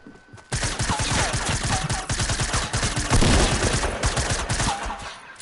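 Rapid bursts of video game shotgun gunfire crack out one after another in a dense, loud volley that keeps going for several seconds, with no talk over it.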